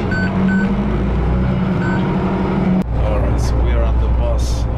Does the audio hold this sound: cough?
no